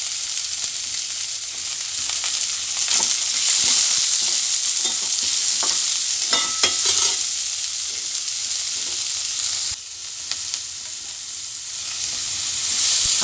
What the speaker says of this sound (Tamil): அதையும் ஆட் பண்ணிவிட்டு லைட்டாக நாம் வதக்கிக்கலாம்